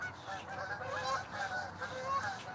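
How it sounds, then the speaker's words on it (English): A flock of ducks or geese honks overhead at dusk over a riverfront park, a steady chorus of overlapping calls heard from some distance above low outdoor background noise. "There's a bunch of ducks or something coming."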